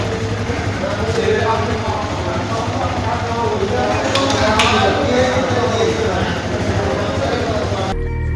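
A motorcycle engine fitted with a new slipper clutch starts and runs with a busy, rattling mechanical chatter, loud and steady throughout with no clear talking.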